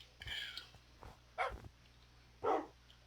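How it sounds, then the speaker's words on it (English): Short barks from a dog in the video game Minecraft, three or four separated yips spaced about a second apart over a faint low hum, with no talk. "MJ's outside barking at something"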